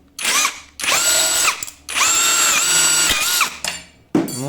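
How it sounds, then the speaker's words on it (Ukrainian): A drill-driven cutting attachment slices through sheet metal and a fairly thick steel putty knife, in loud, sustained whining bursts broken by short pauses and a final clatter. "охренеть, воно ріже навіть криве"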